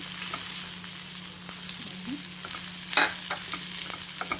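Tomatoes with curry leaves, turmeric and chili powder fry and get stirred in a pan, a constant close sizzle punctuated by scraping spatula strokes and a sharper clatter near the end.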